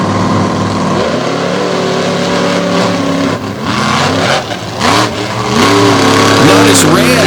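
Monster trucks racing at the Lake Erie 2020 show, loud roaring engines revving up and down in overlapping sweeps, close and dense, with an announcer talking over the din.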